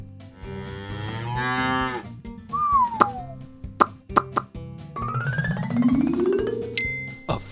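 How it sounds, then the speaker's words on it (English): A cow moos loudly at the start, a long harmonic low call, followed by cartoonish plops, boings and sliding whistle effects over a bouncy music background. "A cow!"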